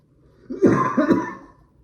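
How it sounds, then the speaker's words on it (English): A single throat clearing, a short rough double rasp that stands out against near silence. "Sorry guys, I just had to clear my throat."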